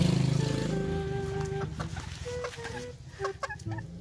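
Three-month-old F1 Sweater x Johnny Jumper Kelso gamecocks give repeated nearby clucks and short throaty calls, starting with a louder burst and continuing as scattered clucking with faint yard noise.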